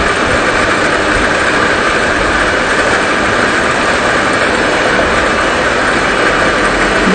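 Engine of an unmanned fishing boat running steadily at its second speed setting, a loud continuous drone and whir with no breaks and no talk.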